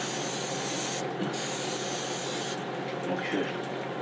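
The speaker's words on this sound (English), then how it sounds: "Let's spray with some more of this spray." An aerosol spray can releasing a steady hissing spray, close and continuous, with brief pauses between bursts.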